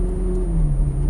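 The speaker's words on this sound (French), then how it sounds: "Allez, on accélère." Ferrari F430 Scuderia engine accelerating on a track: a loud, close, steady engine drone whose pitch slides gradually downward over a brief stretch, with no talk.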